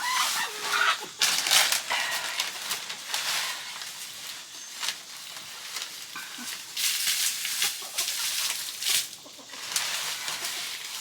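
A flock of forty-two four-month-old chickens clucks and calls inside a deep-litter coop, overlapping bursts of clucking and squawks at close to moderate distance, continuous throughout with no speech.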